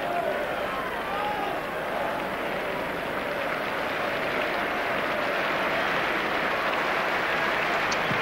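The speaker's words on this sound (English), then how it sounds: "Applause all around the ground for Perry Groves as he is about to disappear down the tunnel now." Applause rolls around a football ground for Arsenal's Perry Groves during a 1990 match against Liverpool, a broad, distant crowd roar of clapping that holds steady throughout.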